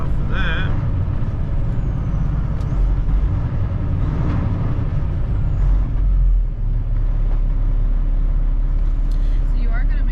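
A truck's air brakes hiss and release as it slows for a school bus, under a loud, steady engine rumble and road noise, with people talking over it.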